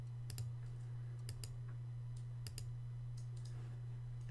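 Computer mouse clicking in quiet pairs and single taps, sharp faint clicks spaced irregularly over a steady electrical hum.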